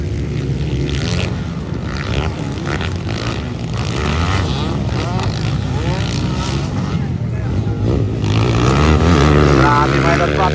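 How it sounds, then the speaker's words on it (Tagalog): Enduro motorcycles race in a local final heat at Alanib, Lantapan, Bukidnon, their engines droning and revving steadily throughout, loud and continuous, with a voice talking over the noise. "Napakalakas na motor."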